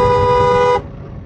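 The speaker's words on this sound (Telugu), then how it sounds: "హారన్" A car horn gives one loud, steady honk lasting under a second during a driving lesson, cut off abruptly and followed by the low hum of the car moving.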